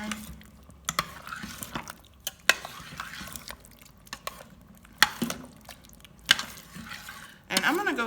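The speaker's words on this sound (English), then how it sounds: "stir it all in there" Chili being stirred in a pot, thick wet squelches and soft scraping strokes with intermittent clacks of the spoon against the pot, close by, with a voice briefly heard between them.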